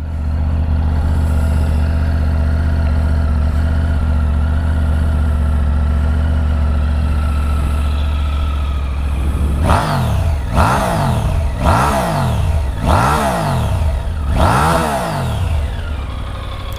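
A 2020 Triumph Tiger 900 GT Pro three-cylinder motorcycle engine idles steadily and loudly up close, then gets five sharp throttle blips in a regular rhythm, each rising and falling back to idle.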